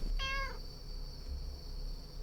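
A single short meow from a cat in a video game, clear and close, followed by quiet background hum.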